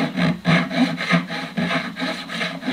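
A hand saw cuts a fret slot into a wooden violin fingerboard, giving a steady back-and-forth rasping rhythm of about five strokes, close and clear with no voices.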